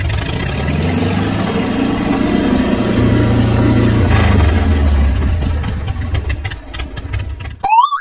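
A cartoon motorbike engine runs loud and steady for several seconds, then gives way to rapid clicking and a sharp rising whistle at the end.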